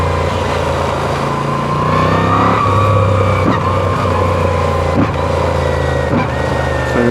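Deep, steady rumble of a Moto Guzzi V7 Sport motorcycle engine while riding, loud and continuous with slight changes in revs and no voices.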